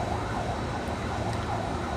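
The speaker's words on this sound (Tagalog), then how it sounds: "Ambulansya, lagi niyang kaaway yung mga yan." An ambulance siren wails steadily in a continuous rising and falling sweep, with no talk over it.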